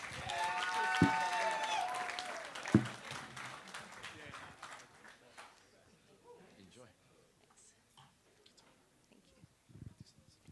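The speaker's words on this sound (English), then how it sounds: "Big round of applause for Elise." Wedding guests at an evening reception applaud the maid of honour as she comes to the microphone, a burst of clapping with a brief tonal sound over it that fades after a few seconds into quiet room noise and faint movement.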